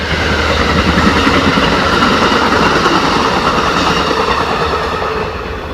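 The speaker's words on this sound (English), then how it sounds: "Train." A loud, close train rumbles past on the rails, with a continuous roar and rhythmic clatter of wheels, fading slightly at the end.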